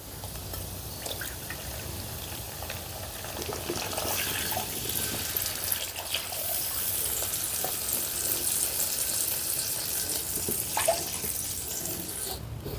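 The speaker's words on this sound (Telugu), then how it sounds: "మనం ఏ కప్పుతో అయితే రవ్వ తీసుకున్నామో అదే కప్పుతో 3 కప్పుల వాటర్ పోసుకుందాం" Three cups of water pour into a pan for upma, a steady splashing stream that swells and runs on with trickling and dripping, fairly close and with no talk.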